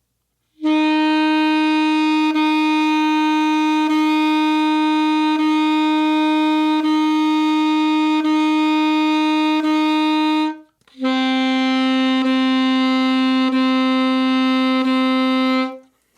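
A saxophone holds a steady middle C with tongued articulation for about ten seconds, breaks briefly, then sounds it again, clear and close with no voices.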